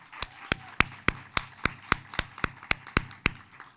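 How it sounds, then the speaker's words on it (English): Sharp, evenly spaced hand claps, about a dozen in a steady rhythm, ring out close and clear at a Hondros College of Nursing commencement in Maumee as thanks to the nursing professors. "give our professors in this whole Hondros College of Nursing a round of applause"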